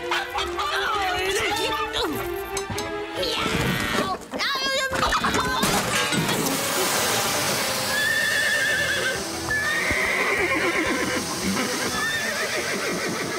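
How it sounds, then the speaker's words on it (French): Frightened horses in a barn whinny and neigh loudly and repeatedly amid hoof clatter and commotion, with excited voices talking over the chaos. "Marie et Rosa, aidez-moi à calmer les chevaux!"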